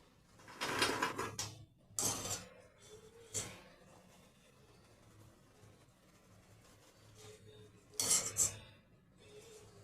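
Crunchy fried madan katkati, a sweet dough snack, are lifted out of oil with a spoon, making several short bursts of rattling and scraping against a metal utensil, separated by quieter gaps; no voices.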